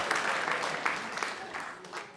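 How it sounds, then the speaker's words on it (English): Comedy club audience applauding at a stand-up special, a steady dense wash of many hands clapping at close range throughout, with a few stray voices mixed in. "Let's try that again, because that should have been unanimous applause."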